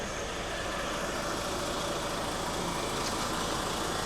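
A truck engine idles steadily at close range, a continuous mid-range rumble with a faint whine running over it, heard alone with no voices.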